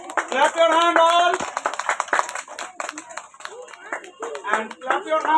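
Children at a school reading-competition prize event clap their hands in quick, crisp bursts, with an adult voice speaking over and between the claps.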